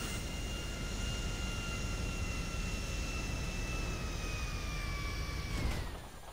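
A jet aircraft in Grand Theft Auto V Online on Xbox One roars steadily and loudly with a sustained engine whine that slowly drops in pitch toward the end, heard alone.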